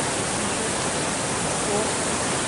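Steady, broadband rushing water from a river flowing beside a campsite at Havasupai, continuous and fairly close with no clear talk over it.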